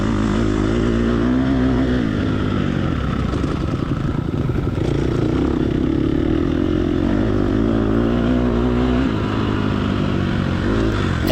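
A loud off-road vehicle engine runs steadily at throttle up close on a rocky hill course, with a dense drone, rattling clatter and small surges in revs, and no voices.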